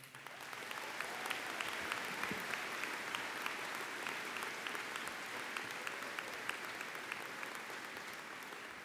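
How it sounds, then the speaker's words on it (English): A large crowd at a university commencement for the class of 2023 applauds the graduating class, a dense, steady wash of clapping that holds at an even level throughout, with no one speaking over it. "can we just give them one more round of applause?"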